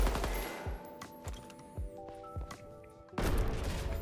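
Gunfire in the video game Deadrop: a run of sharp, spaced shots with booming low thumps, followed by a pause and then a loud burst of dense, crashing noise.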